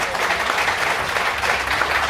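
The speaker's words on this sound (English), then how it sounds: "give him a round of applause there" Live audience at an outdoor piping festival show giving a brief round of applause, a steady, fairly even patter of many hands clapping at moderate distance.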